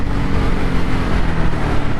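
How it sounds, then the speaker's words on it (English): A 2023 Harley-Davidson Sportster S with its 1250cc engine pulls hard in sport mode, a loud, steady roar that stays up close and continuous throughout. "this is my first time driving it in Sportster mode or sports mode, and oh my god, the power of this bike"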